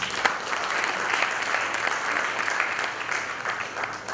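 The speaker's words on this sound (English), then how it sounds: "I think I deserve another round of applause" Audience applause at a PechaKucha night presentation during a marketing technology conference, steady dense clapping from a sizable crowd filling the room at even loudness throughout.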